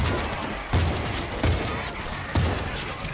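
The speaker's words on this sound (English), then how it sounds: "I got the auto turret running." An automated turret in the World War Z game fires a few spaced, punchy bursts, each a loud low thump with a crackling tail over constant background din.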